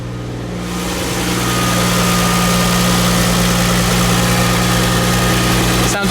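A Toyota 2JZ engine swapped into a Nissan 240SX idling steadily with a deep, rumbling exhaust note through a custom downpipe, close and loud, holding an even throb throughout.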